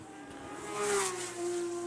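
A Porsche club race car sweeps past at Circuit of the Americas, its engine note rising and then sliding down in pitch as it goes by, a brief, moderately loud pass with no talk.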